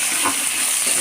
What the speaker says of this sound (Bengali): এগুলো আমরা ভালো করে আলুটা ভেজে নেব।